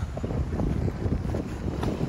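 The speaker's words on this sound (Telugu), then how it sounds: "ఎంతో ఉధృతంగా గాలి వీస్తుంది" Strong wind buffets the microphone on the sandy Godavari riverbank at Rajamahendravaram, a steady loud rumbling roar with gusts and the wash of choppy river waves beneath.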